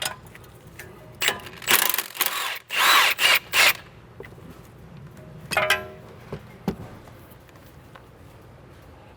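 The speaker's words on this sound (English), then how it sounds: "So 21 on the gun and a 21 wrench to counter hold." An impact gun with a 21 mm socket rattles in short bursts, loud and close, as it breaks loose old, crusty front strut bolts on a 2003–2007 Mercedes-Benz W203 C-Class, followed by quieter clanks of tools and metal.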